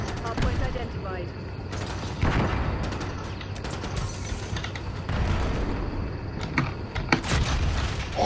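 Shotgun fire in a multiplayer shooter game over a hard point, with repeated sharp blasts and mechanical clatter mixed into busy game noise while a player talks over it.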